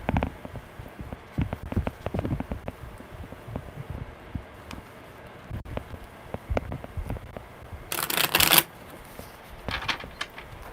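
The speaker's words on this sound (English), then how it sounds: "one more good shuffle" Tarot cards being shuffled by hand, a run of soft riffling flutters and taps close to the microphone, ending in a louder burst of rapid riffling near the end.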